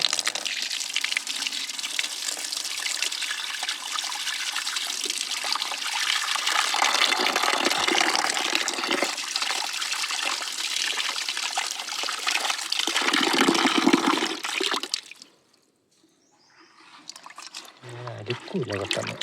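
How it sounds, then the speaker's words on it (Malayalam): Water gushing steadily from an opened tap to mix lawn fertilizer, a loud close rush that stops abruptly near the end, followed by faint trickling and a voice. "വെള്ളം തുറന്ന് വിടുക."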